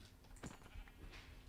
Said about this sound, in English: Let's kill this sheep.